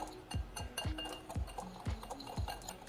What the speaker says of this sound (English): I'm just going to whisk it together until that I see it is well combined